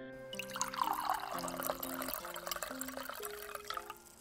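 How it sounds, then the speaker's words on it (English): Fire whiskey poured into a glass in a tavern, a soft steady trickle of liquid that fades a little as the glass fills, heard faint under a low musical background. "Let me pour ye some fire whiskey."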